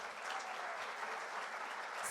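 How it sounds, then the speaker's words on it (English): Audience at the TiECon Surat 2022 entrepreneurship event applauds steadily, a continuous wash of many hands clapping from a distance and held at an even, fairly soft level throughout. "So can we have a really loud applause to see how amazing your energy is?"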